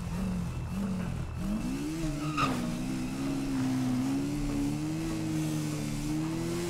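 A BMW GS motorcycle ridden in GTA V, its engine humming steadily and rising in pitch, with a brief tire skid partway through.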